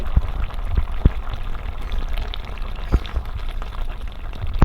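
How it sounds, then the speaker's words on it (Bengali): Mango sour curry with fish bubbling steadily as it boils in a pan, a soft continuous simmer with occasional louder pops close by, no voices. "টক একদম পুরো টকবক করে ফুটছে"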